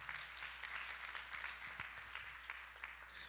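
Church congregation clapping hands during a Friday evening service, a faint, continuous patter of many hands heard from a distance, steady and even over a low background hum.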